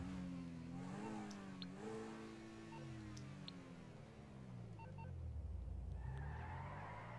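Car engine revving in Grand Theft Auto V, a low rising and falling drone that swells and dips in pitch several times, steady and fairly loud throughout, with faint clicks and skidding tones above.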